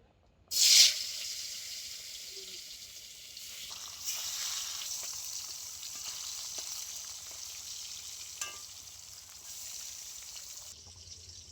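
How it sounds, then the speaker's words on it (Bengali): Pieces of snakehead fish hit hot mustard oil with a sharp initial burst, then settle into a steady, soft sizzle that continues in a quiet kitchen. "তেল খুব ভালো করে গরম করে নিয়েছি এবার আমি মাছগুলো ভেজে নেব"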